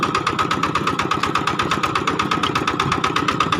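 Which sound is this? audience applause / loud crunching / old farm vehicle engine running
old farm vehicle engine running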